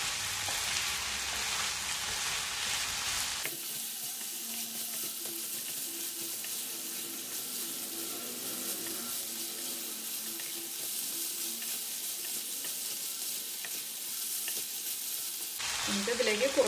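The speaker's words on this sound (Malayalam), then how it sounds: "ഇതാ നമ്മൾ ബീഫും ഓണിയൻസും നന്നായിട്ട് മിക്സ് ചെയ്തെടുത്തിട്ടുണ്ട്. ഇതിപ്പോൾ നമ്മൾ നല്ല ഹൈ ഫ്ലെയിമിലാണ് വെച്ചിരിക്കുന്നത്." Beef and onions frying on a high flame for a Kerala beef fry, a loud, continuous close sizzle that holds steady and swells briefly at the start and end, with no voices.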